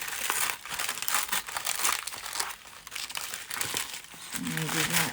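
Wax paper crumpling and crinkling as it is peeled away from faux paper pieces during a craft project, a steady dry rustle running through the whole stretch with some brief low background noise near the end.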